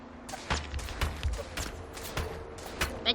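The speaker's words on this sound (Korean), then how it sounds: "총소리 나." Rapid bursts of gunfire in Apex Legends, sharp repeated shots in an uneven rhythm, at moderate volume with no talk.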